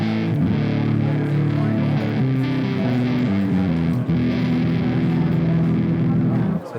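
An electric guitar with EMG pickups is played through a fuzz pedal, giving a loud, thick, gnarly distorted tone with sustained low chords and saturated buzz throughout.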